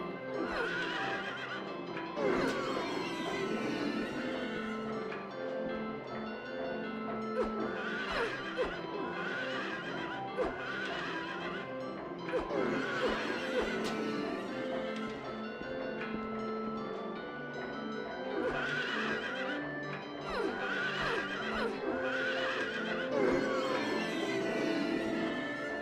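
Repeated neighing from a strange carousel horse in Silent Hill 3, several whinnies spread across a continuous mechanical rumble with clip-clop hoofbeats, loud and sustained, no voices.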